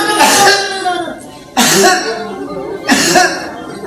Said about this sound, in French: Il tousse 3 fois.